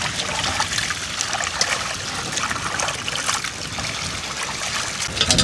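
Water runs and trickles steadily while fish is washed for frying in a food stall kitchen, a continuous close splashing flow with no pauses.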